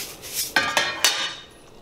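A metal pot and lid handled on the stove while pasta water heats: three sharp clanks in quick succession over a faint hiss, then a quieter settling tail.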